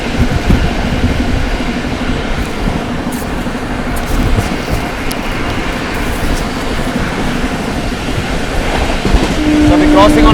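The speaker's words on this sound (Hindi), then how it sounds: "अभी क्रॉसिंग होने वाली है हावड़ा राजधानी, किंग ऑफ राजधानी, हावड़ा राजधानी के साथ अभी अपने क्रॉसिंग होने वाली है" Howrah Rajdhani express train crossing at speed at night, a loud steady rush of rolling coaches and wheel clatter sustained throughout, rising slightly toward the end.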